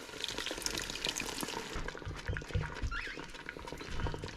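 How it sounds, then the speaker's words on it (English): Half a can of crushed tomatoes poured into a pot of chicken tortilla soup, a wet, glugging, splattering pour that runs steadily for a few seconds against kitchen background noise. "I'm going to use about a half a can of these crushed tomatoes."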